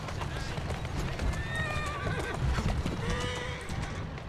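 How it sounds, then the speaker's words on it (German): A horse in the Assassin's Creed Syndicate video game whinnies in a few rising and falling calls over steady clip-clopping hooves, with someone talking over the sounds. "Hier ist ein gutes Pferdchen."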